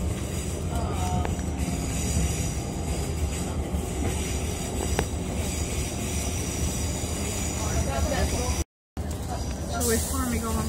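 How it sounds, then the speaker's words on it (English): A train rolls steadily toward Manchester Piccadilly with a constant loud rumble of wheels and carriage noise, heard from inside. A brief dropout comes near the end, and faint squeals rise over the drone. "So we've finally got on the train"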